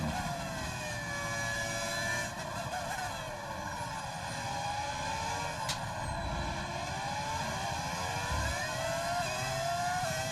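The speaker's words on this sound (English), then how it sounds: "V10 engine sounds the best ever?" A V10 Formula 1 car engine revs in the racing game F1 25 on Silverstone run in reverse, a continuous high, buzzing whine that keeps rising and falling in pitch at a steady, loud level with no talking.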